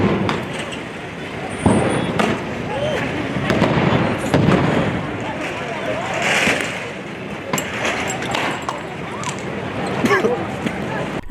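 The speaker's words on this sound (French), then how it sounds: "immédiatement ciblés par le jet de grenades lacrymogènes des forces de l'ordre" Tear gas grenades fired by police at a protest, heard as a busy outdoor scene with scattered sharp bangs and pops over steady crowd noise and commotion.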